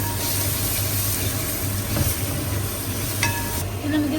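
Salted ingredients being stirred as they fry in a pan for a traditional chicken and colocasia curry, giving a steady close hiss and sizzle with occasional scrapes, alone without talk.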